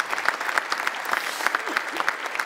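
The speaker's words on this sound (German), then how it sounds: "gerne nochmal einen Applaus dafür." A studio audience at a football talk show claps steadily, a dense even patter of many hands that carries on throughout with a faint crowd murmur.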